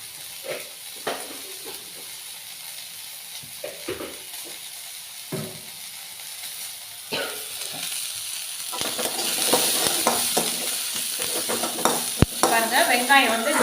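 Onions with mutton masala sizzle and fry in a pan for mutton trotter soup, stirred now and then with scrapes and clinks. The frying hiss grows louder and busier toward the end.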